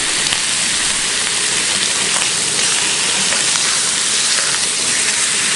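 Bacon sizzling loudly on a Biji barbecue hotplate over high heat, a dense, steady frying hiss that runs without a break, close and alone with no talking.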